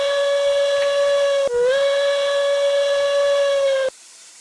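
A tier 1 American steam whistle in the Roblox sandbox game RO-Scale sounds two loud, steady tonal blasts, with a brief break and a slight pitch dip at the restart, then cuts off into a faint hiss.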